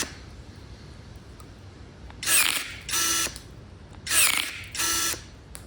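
Ozito brushless electric pruning shears cut through a thick green branch about 23 mm across, giving four short, loud motorized snipping bursts in two pairs over a quiet background.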